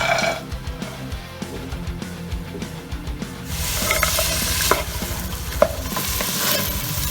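Chopped vegetables sizzling in hot oil in a cooking pot for ragu, with stirring and scraping clatter, growing louder and busier about halfway through, a steady close fry with sharp knocks of a utensil.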